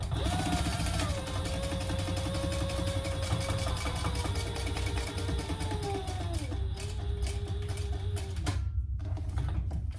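A sewing machine runs steadily, sewing a row of topstitching along the lining seam of a small fabric sling pouch. It makes a continuous, close mechanical whir and rapid ticking that stops briefly near the end and then starts again.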